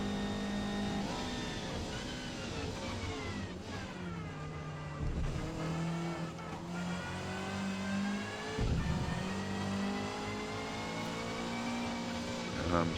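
A Subaru Levorg GT lapping the Nurburgring in the Forza Motorsport racing game, its engine steadily revving up and down through gear changes with rising and falling whine, continuous and fairly close, with no talking.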